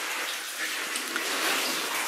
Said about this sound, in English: I see there's water running down.